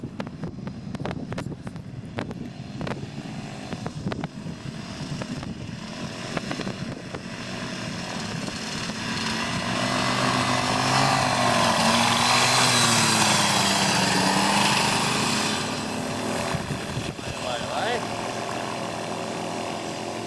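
A Rotax 503 two-stroke engine drones and buzzes, swelling louder midway as it revs, with wind noise and people talking over it.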